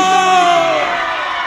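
A live concert crowd at a show yells and cheers in a loud, sustained roar, with voices whooping over the din for the whole moment.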